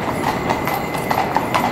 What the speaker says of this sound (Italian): Polizia a cavallo.